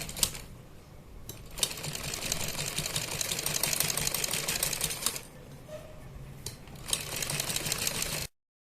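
A sewing machine stitches piping along a collar neck patch, running in a close, steady rapid whir with brief pauses and restarts, no voices over it.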